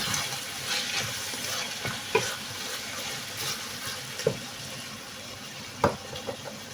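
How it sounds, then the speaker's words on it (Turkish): Chopped tomato is stirred in a frying pan for karnıyarık, giving a soft, steady sizzle with occasional scraping knocks of the spoon. The sound is close but quiet, with no talking. "Hemen karıştırayım ki bu da çabuk içinde pişsin, yumuşasın."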